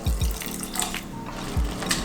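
Tap water runs steadily into a pot or sink while Maggi noodles are being cooked, a continuous close splashing hiss lasting a couple of seconds with a few low knocks.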